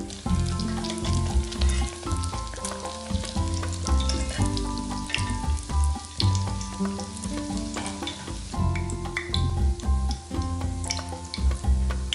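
Doughnuts fry in hot oil with a loud, steady sizzle and dense bubbling crackle, punctuated by scattered pops, close and continuous with no talking.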